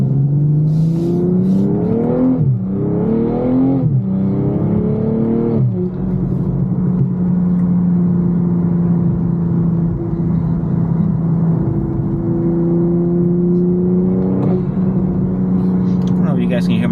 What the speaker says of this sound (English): I don't know if you guys can hear my intake. Sounds good though.